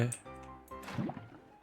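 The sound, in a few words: pouring lava or water from a bucket in Minecraft, a video game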